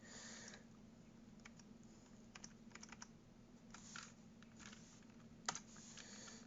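Typing on a computer keyboard while entering commands on a Raspberry Pi 2, with irregular bursts of soft key clicks, fairly faint over a steady low hum, no talk.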